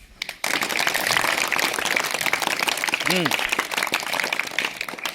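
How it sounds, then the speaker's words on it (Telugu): An audience at a government high school event in Tavakalapur claps, sustained dense applause starting abruptly and continuing steadily, loud and fairly close, with a brief voice murmur partway through. "క్లాప్స్"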